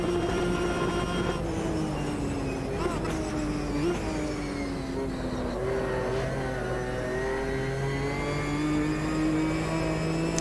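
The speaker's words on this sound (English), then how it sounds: "On my rev limiter in 6th." Race car engine held on the rev limiter in sixth gear in the Automobilista 2 sim at Bathurst, a loud sustained high-pitched drone with slight pitch wobble, running continuously under faint talk.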